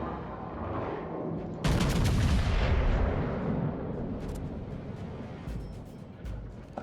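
A heavy battleship salvo in World of Warships booms out as one loud, sudden blast, then rolls and decays over several seconds into lingering rumble and scattered crackle.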